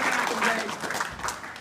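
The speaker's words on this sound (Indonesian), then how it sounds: "Aplaus untuk Pak Nur." An audience at a Maulid Nabi gathering in the Indonesian embassy residence claps in a brief burst of applause, moderately loud and diffuse, with a voice speaking over it as it tapers off.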